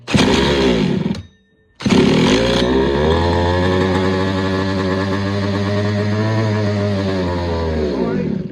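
A small two-stroke petrol engine in a 1/5-scale 4WD RC short course truck cranks with a brief buzz, cuts out for a moment, then fires up and runs steadily with a loud, raspy whine.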